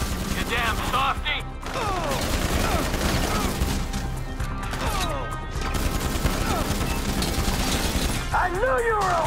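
Dense gunfire in a Grand Theft Auto V shootout, rapid continuous shots with glass shattering and crashes throughout, loud and close, with shouting voices mixed in.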